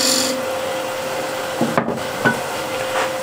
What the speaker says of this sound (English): I'll clean that shoulder with a shear scraper